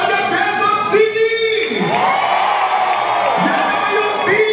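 A large crowd of Quezon City residents at a political rally cheers and whoops loudly and continuously, with shouting voices blending into a dense roar.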